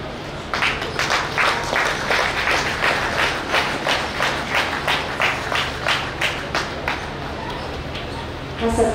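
Audience clapping at a felicitation ceremony for retired police superintendents at a film launch event, loud sustained applause with rhythmic beats, close and dense, from start to finish.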